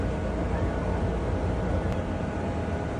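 A high-speed boat engine churns at a steady, loud drone while the vessel manoeuvres to dock, a dense low rumble filling the whole stretch without a break.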